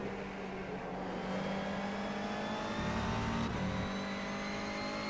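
Race cars in rFactor 2 roar continuously, engine tones steady with shifting pitch as several cars battle down a hill, a dense, even drone with no talk.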